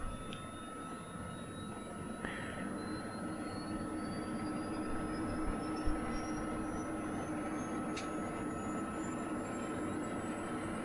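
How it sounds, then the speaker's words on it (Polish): In the FlightGear flight simulator, the second turbine of a Eurocopter EC135 helicopter spools up with a thin whine rising steadily in pitch over a low engine rumble, with a few faint clicks along the way. "idzie, uruchamia się silnik drugi."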